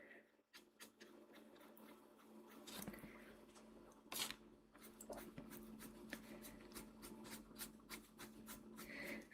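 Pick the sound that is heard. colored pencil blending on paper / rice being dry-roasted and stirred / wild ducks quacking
colored pencil blending on paper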